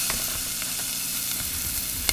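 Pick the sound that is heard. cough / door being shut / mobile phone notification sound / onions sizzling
onions sizzling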